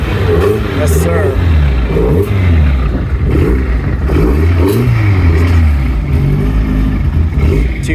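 A 250 GT sports car engine at a Miami concours car show revs and roars steadily up close, with a voice talking over the engine noise.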